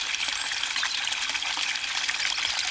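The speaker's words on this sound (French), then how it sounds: "Là, à côté de un petit ruisseau. Vous entendez, c'est sympa." A small woodland stream flows close by, a steady bright rush and trickle of water with no voices, in a quiet spot far from the road.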